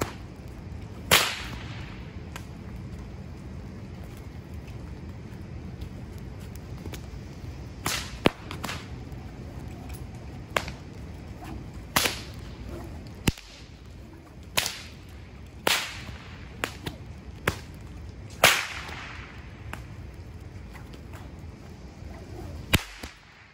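A whip is cracked repeatedly: sharp, loud snaps at irregular intervals over a quiet background, heard alone without talk.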